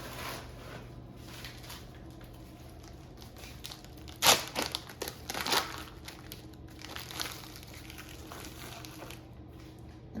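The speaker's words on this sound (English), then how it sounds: "So I'm going to open the package of Jimmy Dean English muffin sandwich and take it out of its packaging" Plastic packaging around a frozen Jimmy Dean English muffin sandwich crinkles and tears open. Soft rustling builds to a couple of loud crackling bursts, then fades back to light handling noise. There is no talking.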